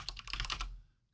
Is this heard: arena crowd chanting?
no